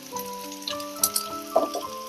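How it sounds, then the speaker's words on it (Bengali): Oil sizzles and crackles as onions fry in a pan, with a few sharper pops and faint tonal sounds in the background. "এর মধ্যে আমি পেঁয়াজটা দিয়ে দিলাম, খুব ভালো করে ভাজা হবে"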